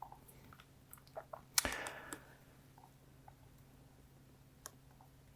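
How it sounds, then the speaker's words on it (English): Keyboard arrow keys tapped while nudging items on a poster in Microsoft Word: a sparse series of soft, close clicks with one slightly louder cluster, in a quiet room. "just use the keyboard arrows to line it up"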